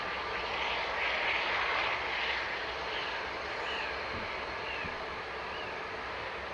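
An Aer Lingus airliner inbound to Dublin Airport produces a continuous broad jet roar with a faint whine, moderately distant and steady throughout, with no talk.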